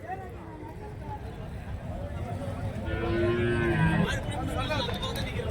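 Cattle at a livestock cattle market in Karimangalam, Dharmapuri district, with a low moo that rises midway through the crowd and yard noise while someone talks throughout.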